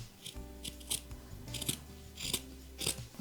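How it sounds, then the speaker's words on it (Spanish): Scissors cutting a doubled layer of quilted fabric for a bag, with a few close snipping cuts in an uneven rhythm against a quiet indoor background. "Lo estoy cortando un pelín más grande para que quede así como desigual"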